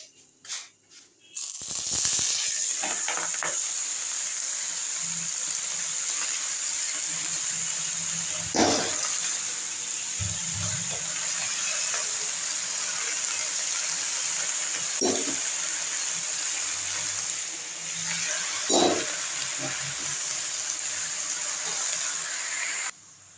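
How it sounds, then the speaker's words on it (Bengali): Spinach dropped into a hot wok bursts into a loud steaming hiss that settles into a steady sizzle, with a few sharp clatters of utensils heard close up and no talking. "এবার আমি দিয়ে দিচ্ছি পালং শাক কড়াতে"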